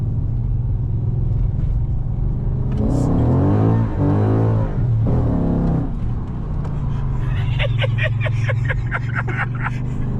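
A Chrysler 300 SRT heard from inside the cabin as it pulls onto a highway: a deep engine roar rises and swells under acceleration, then settles into a steady drone with quick pulsing bursts near the end.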